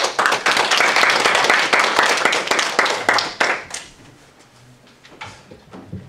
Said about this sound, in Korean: 나오실 때 환영의 의미로 이렇게 박수 한번 쳐드릴까요?